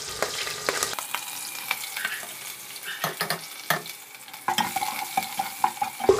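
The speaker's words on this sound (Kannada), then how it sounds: "ಫಸ್ಟ್ ಈರುಳ್ಳಿ ಹಾಕ್ಕೊಂಡು ಚೆನ್ನಾಗಿ ಫ್ರೈ ಮಾಡ್ಕೊಳ್ಳೋಣ." Onions fry in a pan for a stuffed brinjal curry, with a steady sizzle broken by repeated scraping stirs of a spoon against the pan, close and clear with no talking.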